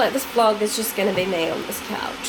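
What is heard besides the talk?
loud electric kettle (jug) heating water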